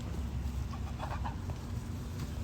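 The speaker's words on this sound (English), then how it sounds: "Gotta feed my baby ducks." Baby ducks being fed make soft, close quacking and clucking calls in short bursts over low background noise.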